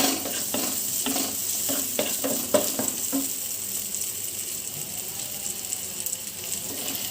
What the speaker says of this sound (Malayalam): അപ്പോൾ ഇത്രയും സാധനം ഞാൻ ഒന്ന് വാട്ടിയെടുക്കുകയാണ്